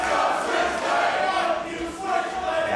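A large wrestling arena crowd at a New Japan STRONG event roars and chants in dense, continuous waves, sounding loud and full with no clear single voice standing out.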